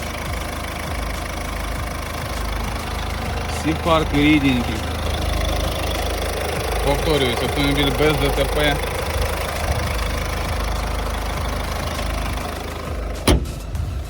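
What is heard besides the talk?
Ford Focus 1.6 turbo-diesel engine idling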